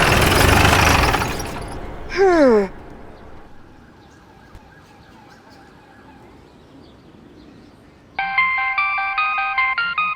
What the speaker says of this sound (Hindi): हमारी मैडम का फोन बज रहा है